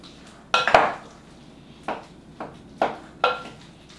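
Knish filling being mixed in a bowl with a spoon, giving several sharp clinks and taps against the bowl at uneven intervals, close and clear, with no voices.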